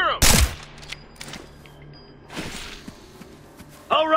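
Gunfire in the video game Ghost Recon Future Soldier during a mission in Russia's Caucasus: a loud opening burst, scattered quieter shots and thumps, then another sharp shot at the end.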